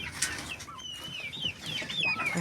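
Chickens and a rooster cluck and chatter close by during morning feeding in a farmyard, steady overlapping calls over soft background noise, with no talking.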